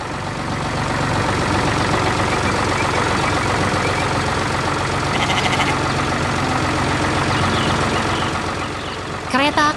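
A heavy tractor engine in a farm animation rumbles continuously at a steady, loud idle, with a brief beeping near the end.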